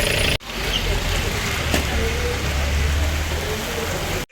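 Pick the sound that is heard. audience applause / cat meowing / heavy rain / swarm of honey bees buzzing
heavy rain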